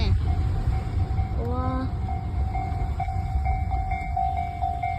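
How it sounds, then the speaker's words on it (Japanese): Electronic railroad crossing alarm at Washinomiya on the Tobu Isesaki Line rings as a steady, repeating bright tone over a low outdoor rumble, with a brief startled voice near the start. "踏切が鳴りました。"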